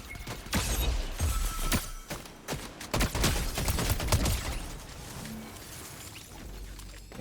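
Pistol gunfire in the Fortnite video game, a rapid series of sharp cracks and impacts mixed with crashing game effects, loud and busy, with no talking.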